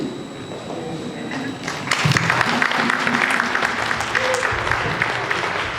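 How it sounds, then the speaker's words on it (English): An audience at a Juneteenth celebration breaks into steady applause after a short pause, clapping fills the room and continues with scattered crowd noise. "give her a round of applause."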